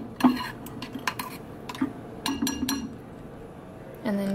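A spoon stirring oatmeal in a bowl, making light clinks and scrapes in several short bursts, close and moderately quiet, with a faint background hum.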